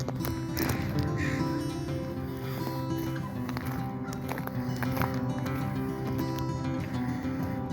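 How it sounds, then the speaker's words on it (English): Crows cawing along a walking trail by Thomas Lake in Washington State, several scattered caws at moderate distance over a low steady background hum, with no voices. "There's usually tons of crows here if you like crows."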